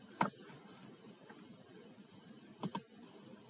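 Mouse clicks sound while working in Crystal Reports 2008, a few crisp close clicks with a quiet gap between them and no talking.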